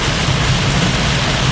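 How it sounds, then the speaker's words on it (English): Heavy rain pours in the core of a Florida thunderstorm, a dense, steady roar with no let-up and no voices. "I'm in the core of this storm, very heavy rain, visibility about 50 meters."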